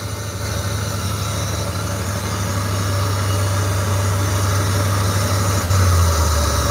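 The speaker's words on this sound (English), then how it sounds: "give it a rev and see what it goes to" A Ford Ranger engine runs loud and steady close to the mic, holding a low droning idle that climbs slightly into a rev near the end, with a constant mechanical hum and vibration.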